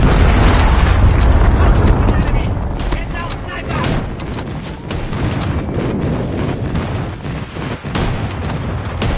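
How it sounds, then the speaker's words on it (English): Airstrike explosions in the Call of Duty Mobile video game: loud, continuous booming blasts and gunfire-like cracks layered densely throughout, close and intense, with no clear speech. "Friendly airstrike incoming."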